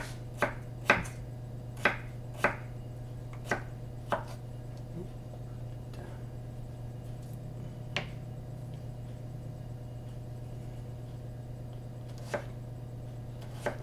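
A knife chops through potatoes for homemade potato chips, giving a series of sharp, close cuts in an uneven rhythm, several quick ones early and then sparse strikes over a steady low hum.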